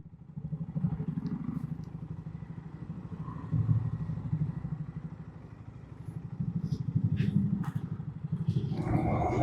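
A motorcycle engine drones steadily at close range on a road in Devgad, Konkan, rising and falling with a few light clatters and no voices.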